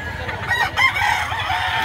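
A gamefowl rooster at a cockfighting rooster sale gives a short, fairly close crow over faint background noise.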